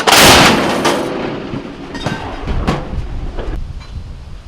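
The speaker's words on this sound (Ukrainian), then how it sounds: "Увага! Постріл!" A heavy artillery gun fires with a loud booming blast that rumbles and fades, followed by a few sharp distant cracks and wind noise.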